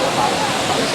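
A waterfall in a forest park in Japan rushes as a steady, dense broadband roar, filling the short stretch without pause.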